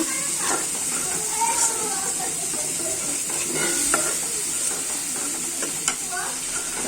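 Spice paste for a hilsa and drumstick curry sizzles in a pan while a spoon stirs it, producing a steady hiss with scattered scraping clicks and soft knocks, close and moderately loud.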